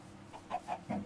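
A chicken in the video game Minecraft clucks three or four times in short, soft bursts over a quiet background.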